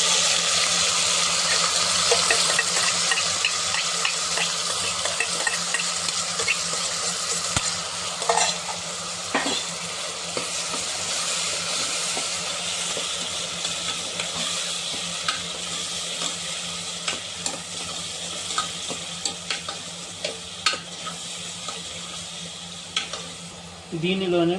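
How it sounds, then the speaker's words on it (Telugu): Onion pieces and masala sizzle steadily in a pan for a bitter gourd curry, with a spoon stirring and scraping through them in frequent clicks over a continuous close frying hiss. "ఇలా ఉల్లిపాయ ముక్కలు లైట్గా మగ్గిన తర్వాత దీనిలో మనం రెడీ చేసి పెట్టుకున్న మసాలాను వేసుకొని ఫ్రై చేసుకోవాలి"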